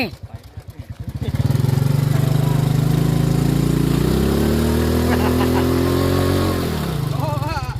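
A motorcycle engine with an aftermarket exhaust idles with a loping putter, then is revved hard and held at high throttle for several seconds before dropping back to idle, close and loud, with people talking around it.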